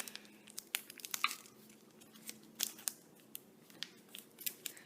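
Scissors snip sticky tape on a folded paper toy gun, giving a run of short, crisp cuts and crinkles at close range, fairly quiet, with no talking.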